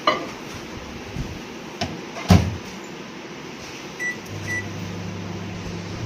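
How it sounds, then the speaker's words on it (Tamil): A microwave oven heats a vanilla mug cake in a kitchen, giving a steady low hum after a door thud and a few faint beeps, with a light clatter of dishes and no talking. "ஸோ இப்போ நம்ம இந்த மக்கைக்கிற இன்க்ரீடியன்ஸை மைக்ரோவேவ் ஓவனில் 1 minute வச்சு எடுக்க போகிறோம்"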